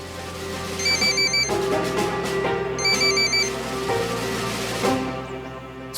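An electronic phone ringtone trills in repeated bursts, loud and close, with a low hum underneath and no talking.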